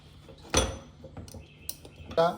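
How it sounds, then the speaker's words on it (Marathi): Sharp metallic clacks as a sandwich toaster holding buttered bread is shut, one loud clank followed by softer knocks and a final rattling close, near and otherwise quiet. "टोस्टर बंद केला"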